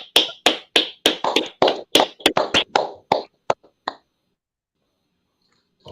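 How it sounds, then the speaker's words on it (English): A live audience breaks into a brisk burst of clapping, about a dozen sharp close claps in quick rhythm over four seconds that trail off to silence. "Clap it up"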